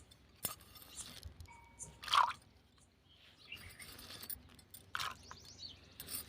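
Shelled double beans are washed by hand in water, making faint, scattered sloshes, squishes and drips with quiet pauses between them.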